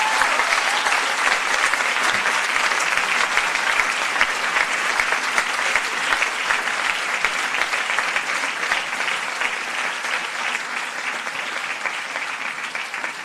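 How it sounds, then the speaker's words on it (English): Sustained applause from a graduation ceremony audience, dense and steady for the whole stretch, a large crowd clapping together without a break and fading only slightly toward the end. "So please, a big round of applause for Sharon."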